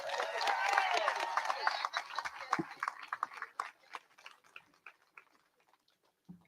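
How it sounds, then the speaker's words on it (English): Outdoor crowd applause at a statue unveiling in Columbia, South Carolina, strong clapping and cheering at first that thins into scattered individual claps and fades away. "You all clap it up for him"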